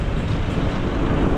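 A ferry ship at the port of Bacolod gives off a steady, loud, low rumble mixed with wind buffeting the microphone, continuous and unbroken for a brief moment.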